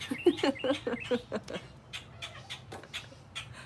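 Birds chirping and chattering near cats, a quick series of sharp, high chirps followed by softer scattered calls, close and moderately loud with faint background noise.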